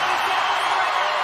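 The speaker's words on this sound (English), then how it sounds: "Crowd doing everything they can to get him there." A dense, continuous roar rises from the crowd cheering an athlete through the final reps of a heat at the 2024 CrossFit Games men's event, with a commentator talking over it.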